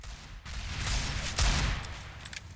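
Pistol fire in Counter-Strike on the map Cache during a competitive match, a dense run of sharp gunshots with a heavier burst near the middle, loud and continuous across the whole stretch.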